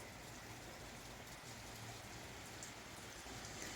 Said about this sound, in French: il pleut sans discontinuer depuis